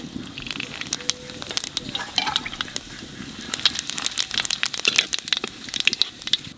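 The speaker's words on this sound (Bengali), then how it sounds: "তেলের উপর দিয়ে দেব জিরে আর তেজপাতা" Cumin seeds and bay leaves hit hot oil for a big fish curry, giving a steady crackling sizzle with sharp pops and spits throughout, fairly close, no talking.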